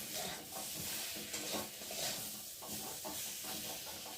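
Spices frying with potato and pointed gourd in a pan while being stirred, a soft continuous sizzle broken by rhythmic scraping and shuffling strokes, fairly quiet and close, no talking.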